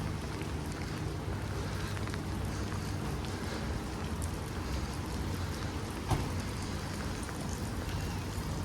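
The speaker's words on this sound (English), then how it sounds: "this is a good example of a rainy, early morning seafront town" Steady rain falls over a quiet seafront town in the early morning, a dense, even hiss of drops on surfaces with a faint low rumble beneath and one small knock partway through.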